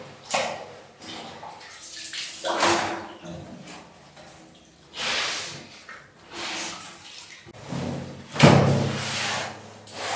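Water is poured and sloshed inside a cement water tank as it is washed out in a village. It comes as irregular splashing and scrubbing bursts, close by, with a heavier splash near the end.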